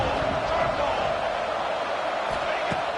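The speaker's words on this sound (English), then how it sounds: "3rd down, and the crowd really getting into it" Football game crowd on third down, a dense roar of cheering and shouting that stays loud and steady throughout.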